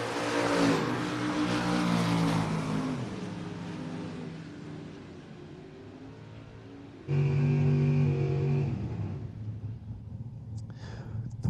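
Drag racing cars, including a big body Chevelle, roar off the line at an FRBR Independence Showdown, a loud engine howl that fades into the distance, then another sharp burst of engine noise that also dies away.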